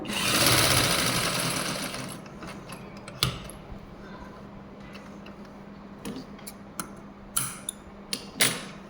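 A sewing machine stitches a blouse sleeve with buckram, running in a loud continuous burst at first, then giving way to scattered clicks and short taps of fabric handling and machine parts.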